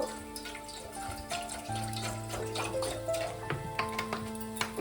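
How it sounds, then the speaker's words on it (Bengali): Water is poured into a cooking pot to start a sugar syrup, a steady liquid splash and trickle running continuously at close range with faint kitchen clatter and no talk. "এক বাটি মতো জল দিয়ে দেবো"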